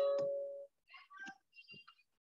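A telephone rings during a civil engineering programming lecture: a sustained tone followed by a short run of faint, separate electronic chirps, heard quietly with no talk over it.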